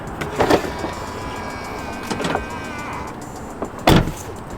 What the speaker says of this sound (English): It's a lot softer and much more solid on the door when you close on the new Model 3